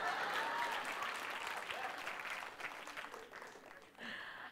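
Audience applause at a TEDxKLWomen talk, a dense steady wash of clapping that slowly thins and fades, with a brief renewed burst near the end.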